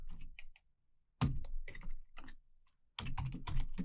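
Keys clatter on a computer keyboard in three short bursts of typing, close and fairly quiet, with brief pauses between them while someone enters a command into a web browser's developer console.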